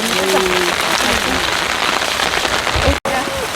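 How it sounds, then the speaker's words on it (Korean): A sudden rain shower pours down on a rural sweet potato field, a loud, dense, steady hiss of rain on surfaces heard close up, with people talking under it. "소나기야, 소나기."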